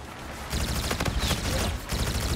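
Rapid bursts of Type 2 assault rifle fire in the video game Infinite Warfare, loud, close and continuous, with several clustered volleys.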